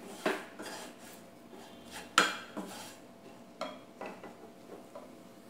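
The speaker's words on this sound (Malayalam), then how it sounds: "ഇതിൻ്റെ പച്ചമണം മാറുന്നതുവരെ നല്ലപോലെ വഴറ്റിക്കൊടുക്കുക." Spice powders being sautéed in a pan for chicken, marked by repeated sharp metal clinks of a spoon against the pan over a faint sizzle, irregular and close.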